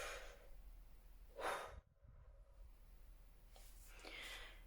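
A deep inhale through the nose and mouth, sharp and close, is followed by a brief pause and then softer breathing, with no voice.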